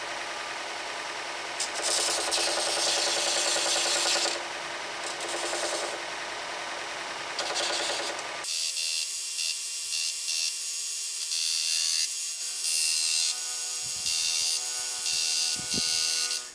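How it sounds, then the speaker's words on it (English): Steady, continuous abrasive rubbing of radiused and flat sanding sticks on wooden guitar sides, close and fairly loud, with a brief shift in tone midway and no talking. "we will use our radiused sanding sticks for the back and our flat sanding stick for the front"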